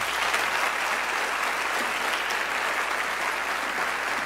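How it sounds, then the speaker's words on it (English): A lecture hall audience applauds a public lecture speaker, a dense, even wash of many hands clapping that holds steady throughout. "let's give our speaker a round of applause."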